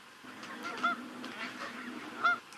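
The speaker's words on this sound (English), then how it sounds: "Lovely to see the geese flying" Geese honk repeatedly at a distance, a loose chorus of calls rising and falling over a few seconds.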